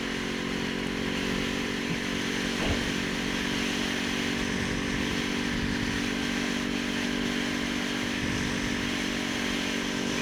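A Kawasaki Ninja 400 motorcycle rides through traffic, its engine holding a steady, loud drone with constant wind rush close to the rider, without pauses or talk.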